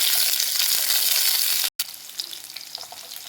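Onions and green chillies frying in oil in a pan, a steady bright sizzle with a brief break midway before the crackle resumes slightly softer.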